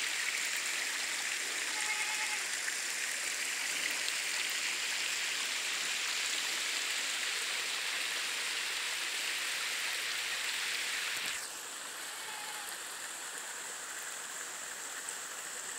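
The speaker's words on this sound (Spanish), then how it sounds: "miren la caída de agua que tiene" Water spills down roughly eight metres at the Uluazapa falls, a steady broad rushing roar heard alone and close, holding constant throughout before dropping slightly in level near the end.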